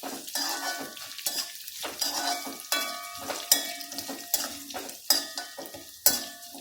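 Cumin seeds and slit red chilies sautéed with golden fried onions in a pan: repeated rhythmic scraping and clinking of a spoon against metal over a light sizzle, no talking.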